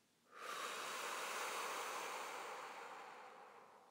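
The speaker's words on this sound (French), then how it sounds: "Et soufflez fort par la bouche." A forceful exhale blown out through the mouth during yoga breathing practice at home, a single long rushing breath that starts abruptly, holds steady and slowly fades, close and fairly soft.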